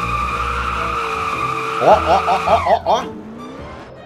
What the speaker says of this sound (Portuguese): Deixa eu fritar os pneus do Corvette aqui.